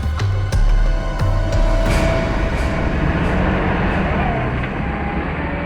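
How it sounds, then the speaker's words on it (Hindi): A truck heard in a jungle setting: a loud, continuous low engine rumble with harsh broadband noise and a few sharp clanking accents, steady throughout with no talk. "ट्रक की आवाज? ट्रक जंगल में?"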